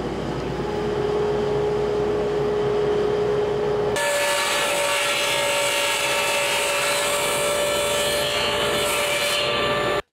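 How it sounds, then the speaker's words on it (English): A table saw runs with a steady motor whine while cutting wooden picture frame pieces, the loud, even drone continuing throughout with a sharp shift in tone partway through. "So I'm going to have to cut this at least twice in order to be able to get the line up here where the saw blade is."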